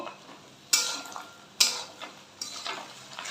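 A spoon stirs fish roe curry with tomato and slit green chillies in a pan, four sharp scraping strokes at roughly even intervals, each trailing off into a soft sizzle, close and clear with no talking.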